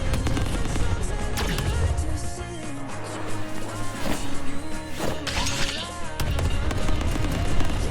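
Weapon fire in the Black Surge Night game: rapid bursts of shots and impacts, loud and dense throughout, layered over game music and effects.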